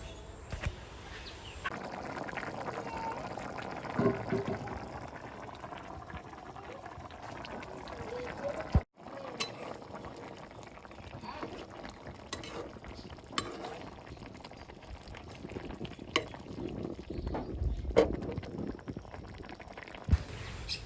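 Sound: washed fish added to curry cooking on gas stove

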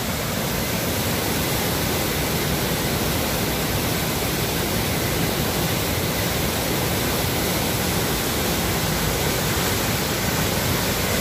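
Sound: flooded Serpis river water roaring over a dam

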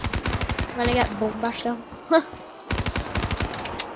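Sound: Death Machine minigun firing in Black Ops 3 Zombies video game

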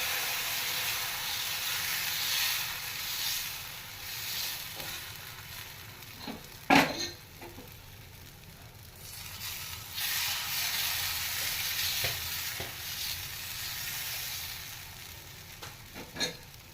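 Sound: dosa batter sizzling on a hot pan, made with Balamrutham flour

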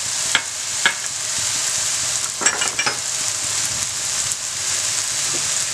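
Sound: spices frying and stirred in a pan for biryani

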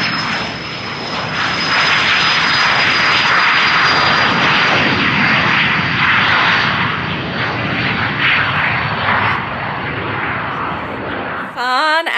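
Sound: airplane flying overhead

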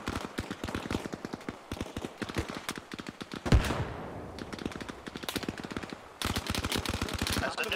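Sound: gunfire in the video game Arma Reforger

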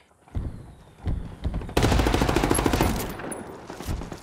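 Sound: gunfire in the video game Ghost Recon Wildlands

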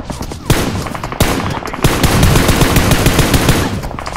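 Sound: gunfire in video game PUBG Mobile

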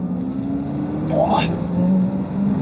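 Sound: Audi RS e-tron GT accelerating, shifting into second gear

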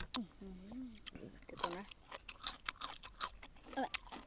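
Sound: eating crunchy peanuts with khanom jeen noodles

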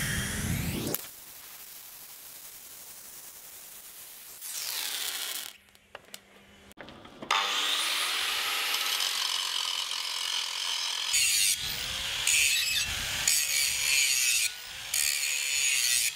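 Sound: grinder grinding steel welds on anchor

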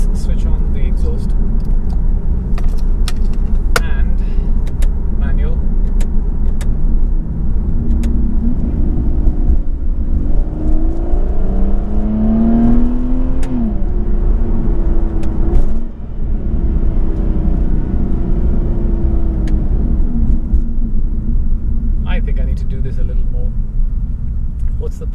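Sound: McLaren GT sports car exhaust revving

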